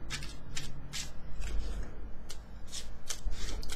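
Tarot cards shuffled by hand in a steady run of papery riffles and soft rubbing swishes, close and continuous with no talk over them.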